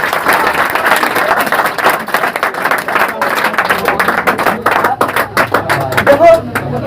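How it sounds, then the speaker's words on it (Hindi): Loud, dense applause from a room of students cheering for class toppers in 12th Science, steady rapid clapping that continues throughout without a break. "तो एक बार जोरदार ताली होना चाहिए।"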